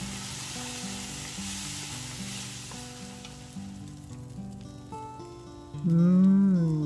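Food sizzles and fries steadily in a pan while being stirred, with a sticky rice dish being cooked; soft music plays along and swells louder near the end, no talking.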